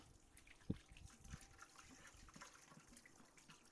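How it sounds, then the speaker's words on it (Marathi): Raw chicken being washed in water for a home-cooked meal, with soft running and splashing water, a sharp knock near the start and another thud shortly after, faint and steady throughout with no talking. "चिकन घेतलेलं आहे, चांगलं वॉश करून घेऊ."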